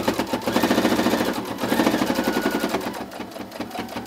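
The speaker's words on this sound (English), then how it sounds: "I'm stitching right up to that crease, so I'm not stitching over the shark tail" Sewing machine stitching quilt binding, a steady fast mechanical chatter of the needle running continuously, close and clear, slowing slightly near the end, with no talking.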